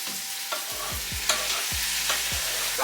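Tomato and pepper sauteing in a pot, with a soft continuous sizzle under repeated scraping strokes of a spoon stirring every half second or so, close by and unhurried.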